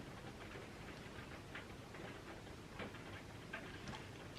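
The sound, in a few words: rain falling outside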